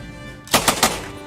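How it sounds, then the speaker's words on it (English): Real military weapons fire on a range, three sharp loud bursts in quick succession, close and punchy. "like having us record real weapons on their weapon ranges"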